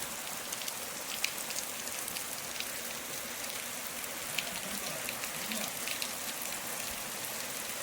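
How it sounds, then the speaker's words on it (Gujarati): Steady light rain patters on a surface, a soft continuous hiss with scattered droplet ticks and no voices. "વરસાદની શરૂઆત થઈ ગઈ છે મસ્ત. ધીમો ચાલુ છે."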